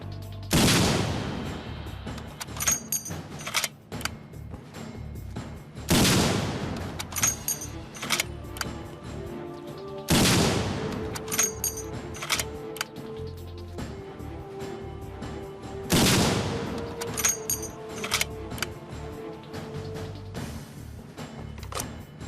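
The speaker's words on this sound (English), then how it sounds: "a powerful sniper rifle, Accuracy International AX-50 Anti-Materiel rifle by the big Ledovsky" An Accuracy International AX-50 anti-materiel rifle fires in a Fallout 4 mod: four heavy, booming shots spaced several seconds apart, each followed by metallic rechambering clicks and rattles.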